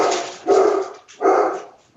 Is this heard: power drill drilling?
no